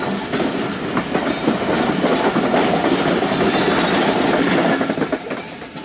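The 16Dn Karachi Express runs along the tracks with a loud, continuous rumble and rhythmic clickety-clack of wheels over rail joints, heard up close from on board.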